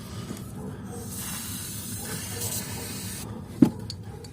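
A spray can sprays white grease during work on a rear axle rubber bush of an Opel Vauxhall. It makes a steady close hiss for about three seconds, followed by a sharp metallic knock.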